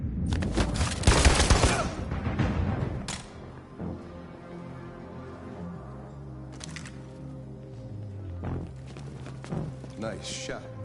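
Rapid bursts of gunfire from the video game Detroit: Become Human, loud and dense at first, then tapering into scattered shots over game sounds and voices.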